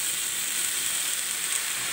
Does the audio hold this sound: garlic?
yes